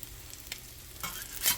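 Salmon patties fry until crispy in a pan, a soft steady sizzle broken by a few louder crackles and a spatula scrape near the end; no one talks.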